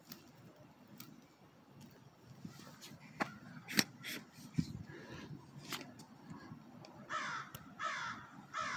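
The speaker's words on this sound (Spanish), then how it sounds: "Parece que tenemos una tribu de cuervos por acá." A group of crows caws in a cold park, sharp calls scattered irregularly at mid distance over soft outdoor ambience, with some rustling near the end.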